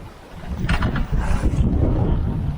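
A sailboat heels through steep waves in a strong Meltemi wind between Naxos and Amorgos, with a continuous loud rush of wind and water, heavy low buffeting, and a brief splashing surge in the middle.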